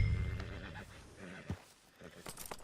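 A horse in the Western video game Red Dead Redemption 2 gives a loud whinny, with hoof clip-clops and soft background ambience around it.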